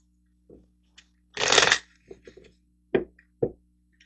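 Tarot cards give a quick riffle-like shuffling burst up close, with a few soft taps and flicks of cards before and after it.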